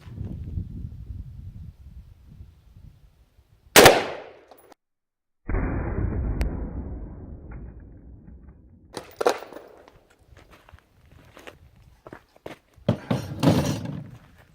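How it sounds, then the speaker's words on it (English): A 5.56 rifle shot strikes a hard drive as a single sharp, loud crack, followed by a fading rumble and later a few scattered knocks and thuds against a quiet outdoor background. "So let's go ahead and shoot the 556."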